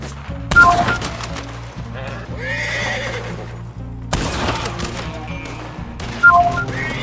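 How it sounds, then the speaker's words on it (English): Gunfire in a Wild West open-world game, with sharp shots cutting through a horse's loud neighs and clip-clopping hooves, plus whistling and scattered bangs, all fairly loud and close. "Sorry, I'm getting shot at."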